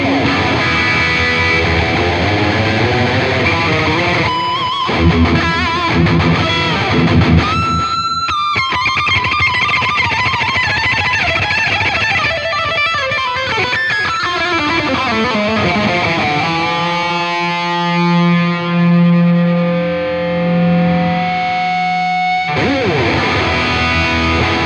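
Loud electric guitar through an ENGL Ironball SE amplifier, an epic distorted intro of driving chords and riffs, a descending slide and a long sustained chord ringing out before a final hit, with no talking.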